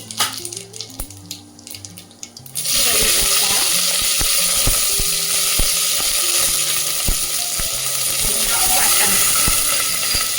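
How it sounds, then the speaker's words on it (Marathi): Mustard seeds and cumin hit hot oil in a pan over a low gas flame, bursting into a loud, continuous sizzle with scattered seed pops and crackles close up. "तापलेल्या तेलामध्ये हे पहा, 1 चमचाभर मोहरी, गॅसची फ्लेम बारीक ठेवा, 1 चमचाभर जिरे"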